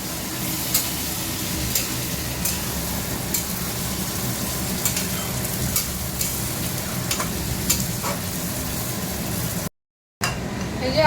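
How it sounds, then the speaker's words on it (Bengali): Meat and potatoes sizzling and frying in a pan on a gas stove, a steady close crackle with scraping stirring sounds throughout and a brief dropout near the end. "আর এই যে মাংস রান্না করছে এখানে।"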